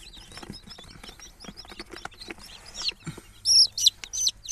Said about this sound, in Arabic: وهذا أول كتكوت